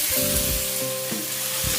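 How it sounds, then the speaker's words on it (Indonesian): Chili and tomato stir-fry in hot oil in a pan, giving a loud, steady sizzle throughout with faint scraping from stirring. "Aduk-aduk tumis kembali sampai cabai dan tomat setengah matang."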